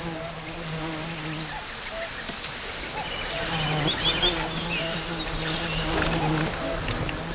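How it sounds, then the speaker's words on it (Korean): Honeybees buzz steadily around a beehive set near a cliff in the Korean DMZ, a dense, continuous insect hum close by, with occasional faint bird calls in the background. "절벽 근처에 어렵게 놓은 벌통에 벌이 제법 많이 들었다"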